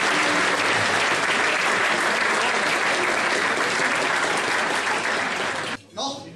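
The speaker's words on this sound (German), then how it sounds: "Applaus." Loud, dense applause from an audience welcoming speaker Günther Beckstein, a continuous roar of clapping that holds steady and then cuts off sharply near the end, followed by a brief faint sound.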